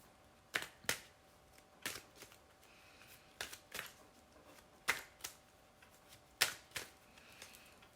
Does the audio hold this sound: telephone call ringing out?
no